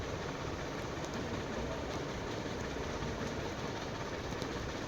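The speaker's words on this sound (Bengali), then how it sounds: "আমি ট্রেন চালিয়ে যাচ্ছি গ্র্যানির বাড়ি" A steady, even rumbling drone of a train engine running in the Minecraft video game, continuous and unbroken with no voices.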